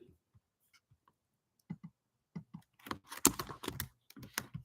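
Someone types on a computer keyboard during a content-planning session: sparse, soft single clicks at first, then a denser, quicker run of clacking keystrokes, close and with no talk.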